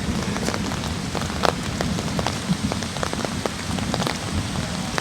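Heavy rain pouring through a jungle forest near an ancient banyan tree during a monsoon storm, a dense continuous hiss with scattered distinct drips and patters.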